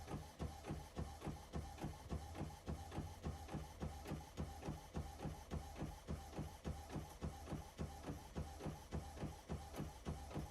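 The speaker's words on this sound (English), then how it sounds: "You can hear the printer going to town on printing out that printer image." A sublimation printer prints a full-color photo image, its print head shuttling in a steady, rapid mechanical rhythm of repeated pulses, close and continuous with no talk.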